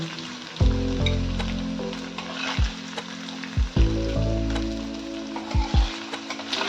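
Paneer pieces frying in oil: a constant sizzle broken by several deep, hollow pan knocks and scrapes as the pieces are moved, with no talking.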